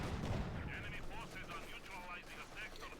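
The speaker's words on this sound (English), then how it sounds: "Shots being fired." Gunfire and artillery in Company of Heroes 2, distant booms and scattered shots under a continuous commentator voice talking over the battle.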